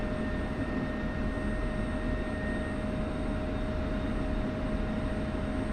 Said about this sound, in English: I'm just getting my engine started up there.